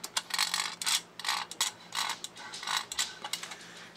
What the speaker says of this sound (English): the rear ones have the ratchet where it'll roll forward free, but locks in reverse